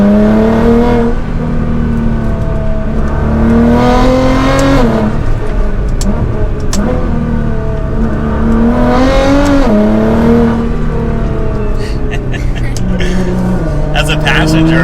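A 2022 BMW M4 Competition accelerates hard along back roads, its engine climbing through rising revs in repeated surges and gear changes, loud and close from inside the car, with voices talking over it.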